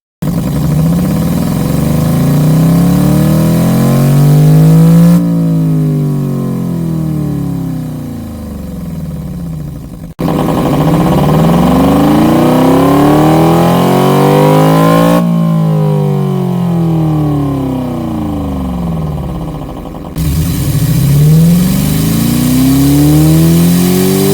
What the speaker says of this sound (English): increase the number of cylinders to generate the sound of a sports car, like a V6 engine, and next a V8 engine